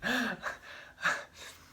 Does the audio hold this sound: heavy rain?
no